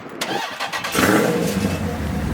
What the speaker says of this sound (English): the best sound to ever hear is a nice little remote start noise